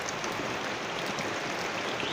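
Steady rain falls in an outdoor rural Thai setting, a dense, even hiss that carries on without a break, with no voices over it.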